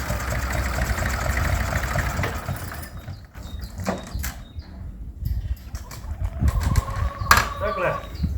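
A 1962 IMT 533 tractor engine chugs along at a rough, knocking idle, steady and close at first, then partly covered by scattered knocks and clatter, with talking toward the end.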